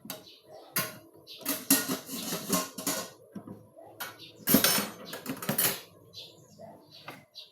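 Plates and dishes clatter in a series of sharp, irregular clinks and knocks as they are gathered for washing at home, with bursts of handling spread across the whole stretch and quieter gaps between.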